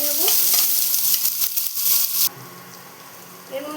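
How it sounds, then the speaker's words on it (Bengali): Chopped onion and green chilli fry in a pan with nigella seeds for stuffed pointed gourd, giving a loud, steady sizzle that cuts off sharply partway through and then continues much quieter. "এটা ভালো মতো ভেজে নেব।"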